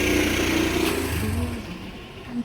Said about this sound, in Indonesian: Oke, ini terdengar suara motor.